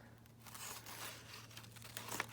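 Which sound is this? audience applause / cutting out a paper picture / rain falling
cutting out a paper picture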